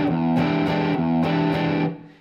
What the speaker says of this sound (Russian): вы играете бас, два аккорда, бас, два аккорда, бас, два аккорда